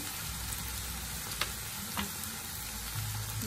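Spices fry in a pan with tomato paste, giving a steady dense sizzle with a couple of faint clicks of a utensil against the pan and no talking.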